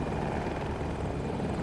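Helicopter in Battlefield 2042 hovering close by, a steady loud rotor and engine roar that holds without a break through the whole moment.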